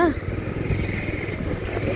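A motorcycle engine rumbles steadily nearby for a couple of seconds, a low continuous drone, in a traffic jam on the road from Ilam to Jhapa, Nepal.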